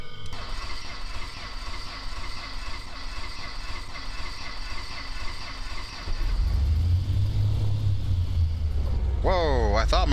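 A propeller aircraft engine in the X-Plane 11 simulator cranks, catches and settles into a loud, deep, steady rumble, preceded by a whirring, buzzing hum and ending with rising tonal chirps.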